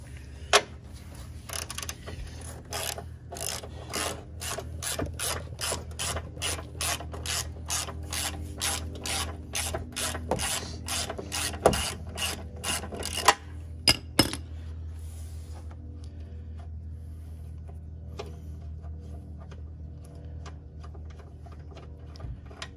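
Ratchet clicking rapidly in quick runs while bolts come off the front bumper of a Ford F-250, close and fairly quiet, then slowing to scattered clicks and faint metallic handling.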